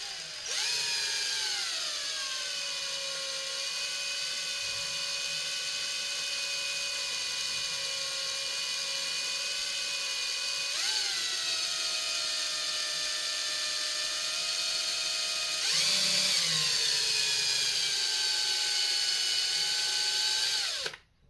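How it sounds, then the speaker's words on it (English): A power drill bores slowly through the plastic rear bumper of a VW Golf, a steady high whine running for about twenty seconds with brief dips and pitch shifts as the bit bites, loud and close with no talk. "be careful when you drill, don't push too hard, just go slow, and then the machine eventually the bit go through."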